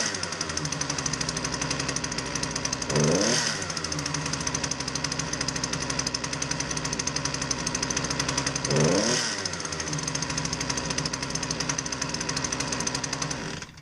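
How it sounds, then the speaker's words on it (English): A consumer-grade Poulan Pro PP338PT 33cc pole saw engine runs roughly and unevenly, a steady loud rattling drone with two brief surges in revs, alone with no talk. "It's a pole saw, consumer grade, 33cc. Customer complaint is that it doesn't run very well."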